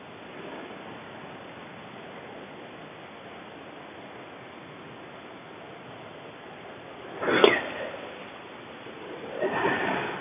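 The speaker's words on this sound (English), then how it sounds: "That was a nice breath for me." A deep breath during a qigong exercise, heard as two breathy exhale-like rushes near the end, the first stronger, rising out of a steady, even background hiss.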